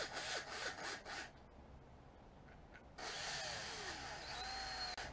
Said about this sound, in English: So I'm going to turn my drill down